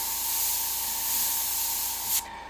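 Steady, close airbrush hiss as paint is sprayed in short strokes between the teeth of a skull, continuous and even until it cuts off abruptly near the end.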